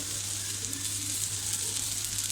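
Ginger and spices fry in a little oil over medium heat, giving a steady, even sizzling hiss throughout with no voices.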